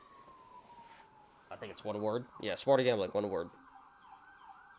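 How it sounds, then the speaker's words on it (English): Sirens of passing emergency vehicles wail steadily in the background, a falling tone at first and then a held high note, while someone talks over them in the middle of the clip. "Sorry about the sirens, guys."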